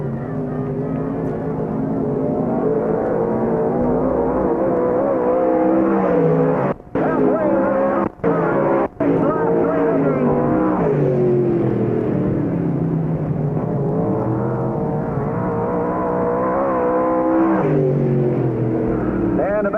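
Race cars circling Knox County Raceway, several loud engines droning and rising and falling in pitch as they pass, with brief dropouts; a commentator talks throughout.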